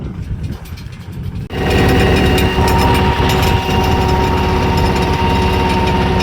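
A tractor engine starts up and runs loud and close, a steady heavy rumble with a rattling throb that continues without a break after a quieter opening moment.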